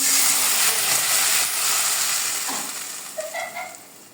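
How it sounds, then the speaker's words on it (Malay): A blended paste of onion, garlic and chili hits hot oil and sizzles loudly and close up, a dense hiss that slowly fades over a few seconds, with a few faint clinks near the end. "so tumis sampai bau harum"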